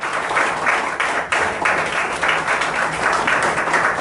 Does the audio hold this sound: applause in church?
yes